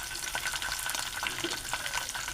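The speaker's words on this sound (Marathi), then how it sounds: "त्याच्यावरती मी टाकणार आहे लसूण पेस्ट, थोडीशी लसूण पेस्ट टाकली." Garlic paste frying with slit green chillies in hot oil in a home kitchen, a steady close sizzle with soft crackling and no talk.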